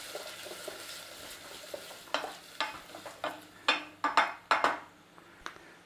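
Onions and garlic fry in butter and oil over moderate heat while being stirred, giving a soft steady sizzle broken by a string of sharp utensil scrapes and clinks against the pan, growing more frequent toward the end.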